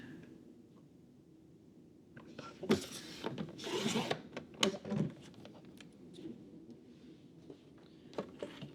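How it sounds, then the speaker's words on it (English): Paper edge is trimmed for a scrapbook layout, with close rubbing, scraping and sliding strokes in irregular bursts, loudest in the middle, against a quiet room. "You start by trimming off this edge."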